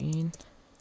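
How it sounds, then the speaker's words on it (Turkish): Slow typing on a computer keyboard gives a few soft, scattered clicks at low volume, just after a brief bit of voice at the start. "Bu yüzden yavaş yazıyorum klavyede."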